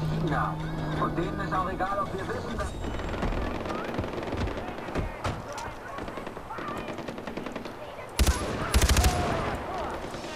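Automatic weapons fire in rapid bursts in the video game Far Cry 4, loud and close, ending with a sharper volley, while someone talks over the shooting.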